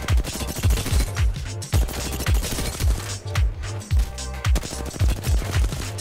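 R-301 assault rifle fire in Apex Legends, a rapid rhythmic string of loud, punchy shots with deep low thumps, fired in steady short bursts close up with brief pauses between them.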